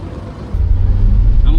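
A supercharged Subaru Sambar engine runs up close with a deep, loud low rumble that swells abruptly after a brief quieter start, steady and throbbing, with a rising whine creeping in near the end.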